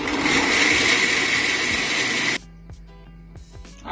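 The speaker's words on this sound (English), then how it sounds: "So we're going to blend, okay?" A blender whirs loudly with a steady roaring buzz, blending peanut porridge ingredients, then cuts off abruptly, leaving a few quiet clicks and handling sounds.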